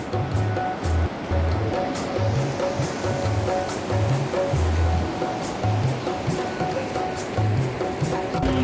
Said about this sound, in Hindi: ये है मंदाकिनी नदी।